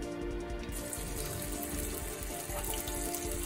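Garlic bubbling in oil in a pan for peperoncino, a steady dense fizz and crackle of frying that runs continuously at moderate loudness with no voices.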